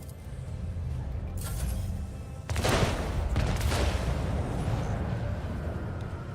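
Torpedo hits strike the player's ship in the video game Rogue Trader, rumbling booms and bursts of impact noise that swell partway through over a constant low roar, with no talk.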